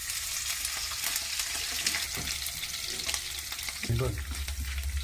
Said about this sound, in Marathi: आता मोहरी, आपण कढीपत्ता पण टाकतोय, थोडं झाकून घेणार आहोत ना, खूप उडतं नाही.